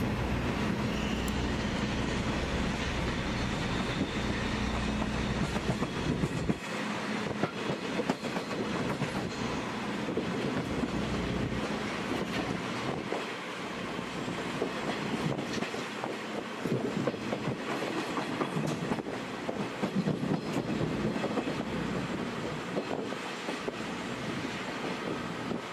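A sleeper train of 50-series passenger coaches departs Hakata Station slowly, with steady rumbling and faint clickety-clack of wheels, continuous and moderately close, with no voices.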